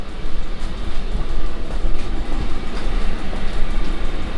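A Chinese diesel heater running flat out at full power gives a loud, steady broadband roar with a constant rumble and no breaks, close by and without speech.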